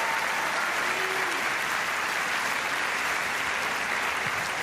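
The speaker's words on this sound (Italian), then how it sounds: "grazie dell'applauso." Sustained applause from a comedy show audience, a dense, even wash of clapping that stays steady throughout.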